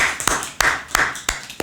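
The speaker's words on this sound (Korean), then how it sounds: "우리 박수를 형제" Claps from a small church congregation during a sermon, a handful of sharp, scattered hand strikes spaced about a third of a second apart, close and fairly light rather than full applause.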